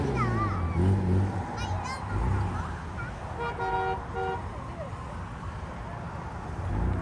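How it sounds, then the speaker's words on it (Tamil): A vehicle horn gives a couple of short honks amid the rumble of passing traffic in Salalah, Oman, with faint voices around. "ஹார்ன் அடிக்கிறாரு."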